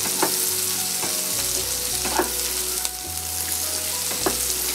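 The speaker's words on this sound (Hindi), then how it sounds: "थोड़ा सा प्याज अब करौंदे के साथ भी भून जाएगी।" Onion, karonda berries and hot green chilies frying in a pan for a spicy sabzi, a loud continuous sizzle with periodic stirring scrapes and clacks of a spoon against the pan, no voices.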